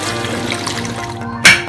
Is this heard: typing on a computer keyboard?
no